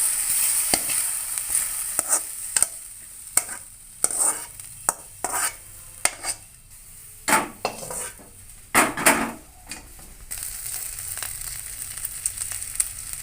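Ivy gourd pieces stirred and tossed in a pan until dry, with repeated scraping clinks of a spatula against the metal pan over a faint sizzle, coming in irregular bursts close by.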